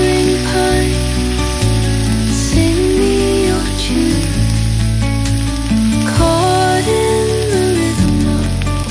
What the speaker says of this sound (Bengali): ফুলকপিগুলো ভালো করে ভেজে নিয়েছি